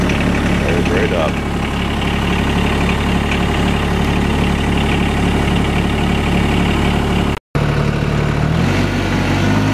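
A TYM (Rural King RK19) compact tractor's diesel engine idles close by with a steady, even low rumble that runs almost throughout, broken by one very brief dropout.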